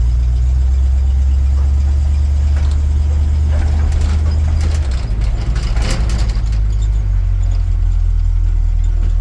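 A 1956 Dodge shop truck's engine runs steadily at idle with a deep, loud low rumble, shifting slightly in tone midway as it is put into gear, with light rattles over the drone.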